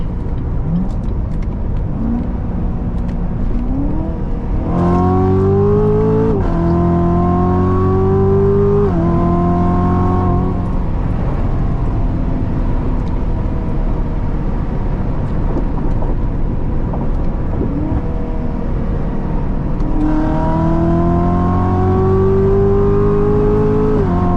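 A 700-horsepower Corvette accelerates hard on an open road, engine roaring loud and close as it climbs through the revs, with two distinct gear shifts before it pulls up again, and no talk.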